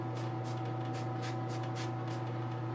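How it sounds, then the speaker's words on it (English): An airbrush sprays paint in short, regular hissing bursts, about two a second, over a steady low compressor hum, close by with no talking. "just kind of keep going with my airbrush"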